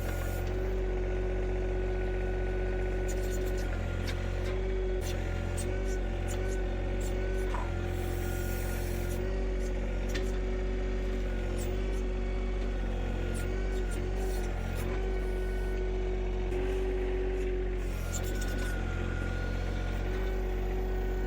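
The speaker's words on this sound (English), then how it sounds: "Right now I've got the throttle set to about 1800 RPM. And this is about how fast the backhoe would go at full throttle" A backhoe's diesel engine runs steadily with the throttle set to about 1800 RPM, a continuous loud drone with a low rumble and mechanical whine that holds unchanged throughout, with no talk.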